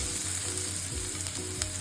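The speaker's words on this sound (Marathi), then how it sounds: "थोड्याशा तेलामध्ये मी इथे सर्वात आधी लसणाची फोडणी घातली आहे" Garlic sizzles steadily in a little hot oil, a continuous close crackle and hiss with no voices.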